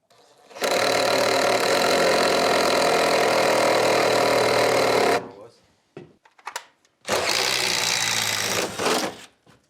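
A power drill whirs loudly for several seconds while marking during roof rake framing, stops briefly with a few clicks, then runs again in a shorter burst.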